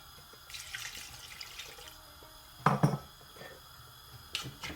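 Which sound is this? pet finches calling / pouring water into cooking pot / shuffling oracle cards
pouring water into cooking pot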